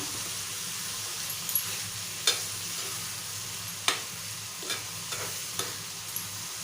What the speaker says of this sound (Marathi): चवीप्रमाणे मीठ घालून घेऊया मिक्स करून घेऊया